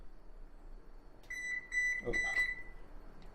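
A stove's electronic control beeps as it is set to 300 degrees: a few short, high-pitched beeps close together, with faint handling noise around them.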